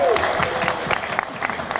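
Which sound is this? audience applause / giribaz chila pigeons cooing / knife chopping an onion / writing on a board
audience applause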